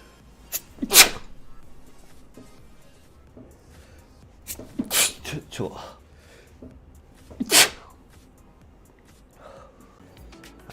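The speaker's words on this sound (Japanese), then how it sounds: "やばい、くしゃみ出る。" Three or four separate sneezes, one sharp burst near the start, a cluster of bursts in the middle and another near the end, close and fairly loud, with quiet gaps and faint background between them.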